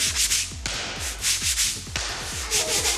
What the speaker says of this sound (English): These are sandy wandies. It's like sandpaper. They go like this.